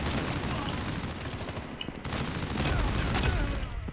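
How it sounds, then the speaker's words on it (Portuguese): Machine gun fire in Call of Duty Mobile during a free-for-all match: dense, continuous rapid bursts of gunfire, loud and close, with a brief dip near the middle before the firing resumes. "Vou botar uma metralhadora aqui pra comer."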